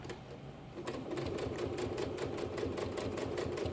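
A sewing machine runs steadily during free motion quilting, with a fast, even mechanical stitching rhythm heard up close and alone.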